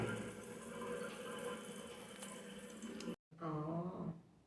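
Water runs steadily from a pipe while a leak is being checked, a close, continuous hiss and splash that cuts out briefly near the end and resumes with a gurgling, bubbling flow.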